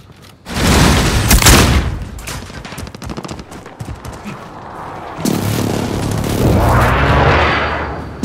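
A frag grenade blast and bursts of gunfire in Call of Duty: Modern Warfare: a heavy booming explosion early on, then scattered rapid shots, and a second sustained rumbling blast that swells and slowly fades.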